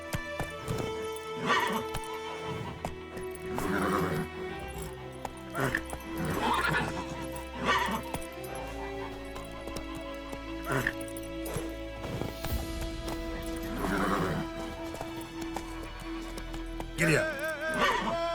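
Horse in The Witcher 3 video game neighing and whinnying with hooves clip-clopping, several loud whinnies spaced across the scene over music and game effects, with brief spoken voices mixed in.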